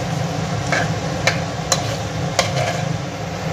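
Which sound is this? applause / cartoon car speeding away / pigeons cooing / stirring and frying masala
stirring and frying masala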